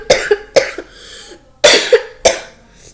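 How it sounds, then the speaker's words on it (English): A person coughs close to the microphone in a quiet room, two loud pairs of short, harsh coughs separated by a brief pause. "Sorry, cough."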